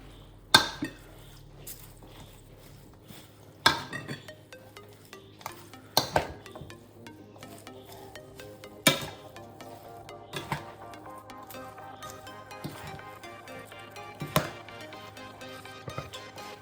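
Salad of chopped red onion, dill and parsley with roasted cauliflower, kale and freekeh is tossed in a bowl, with sharp intermittent clatters of utensils against the dish over a steady soft background, close and without talk.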